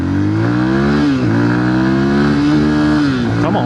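A Beta Alp 4.0 dual sport motorcycle with a new, not yet broken-in engine and transmission revs steadily and loudly while being ridden, its pitch climbing, dipping at a shift, then climbing again before another quick change near the end.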